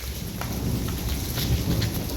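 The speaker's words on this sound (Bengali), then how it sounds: "পুরো বৃষ্টি শুরু হয়ে যাচ্ছে" Heavy rain pours down steadily with rumbling thunder beneath it, a dense, loud and continuous hiss of falling water with no voices present.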